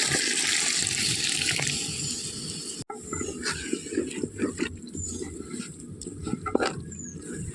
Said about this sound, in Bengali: অল্প পানি দিয়ে দিচ্ছি।